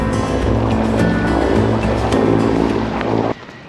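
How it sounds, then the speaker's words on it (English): Steady wind rushes over a 29ft sailboat under way, mixed with water washing against the hull in a continuous loud roar that drops off abruptly at the end. "Actually some nice wind now."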